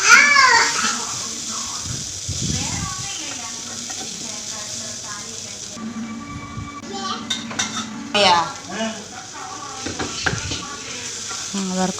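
Bitter gourd being stirred in a pan over low heat, with repeated scraping and clinking of a spoon against the metal pan, soft sizzling underneath and occasional louder knocks.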